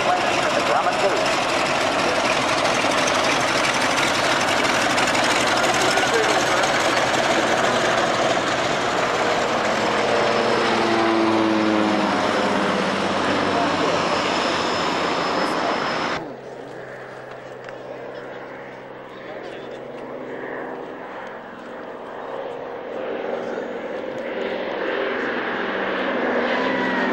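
A vintage aircraft with a big radial engine passes at the Duxford Flying Legends airshow, a loud, rumbling drone that swells and shifts in pitch, then drops abruptly to a quieter, more distant hum.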